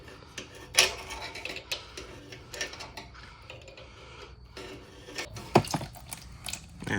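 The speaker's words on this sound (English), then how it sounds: "Once again, the 7/16 wrench is the way to go." A 7/16 wrench works loose the drain bolt on a Craftsman GT18 riding mower, producing scattered metallic ratchet clicks and clanks at close range, with a couple of sharper knocks among quieter tool handling and no talking.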